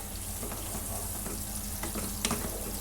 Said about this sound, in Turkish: Şimdi hafiften bir baş soğan doğradım arkadaşlar. Biraz sıvı yağ. Onu güzelce şöyle bir yumuşatıyorum.